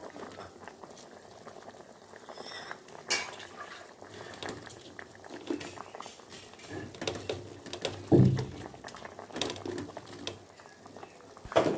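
A pot of vegetarian curry with potatoes bubbles at a steady boil, a continuous soft gurgle and popping of liquid close by, with a few louder sputters near the end and no talk.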